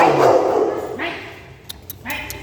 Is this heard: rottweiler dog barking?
yes